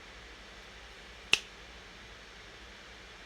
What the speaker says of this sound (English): Think I should be able to just snap my fingers and make it happen?